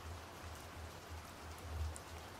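Heavy rain falls steadily in a continuous quiet hiss of dense drops, with no voices present.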